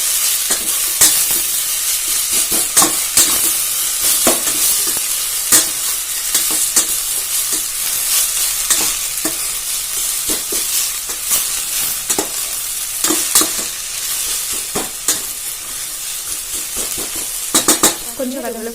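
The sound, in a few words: sautéing mint mixture in a pan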